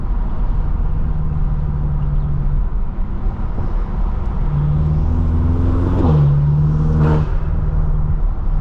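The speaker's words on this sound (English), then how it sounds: "I can't believe that's what the stock exhaust sounds like." A BMW M6 with its stock exhaust revs and accelerates from inside the car, a loud steady engine drone that climbs in pitch through a couple of rising pulls.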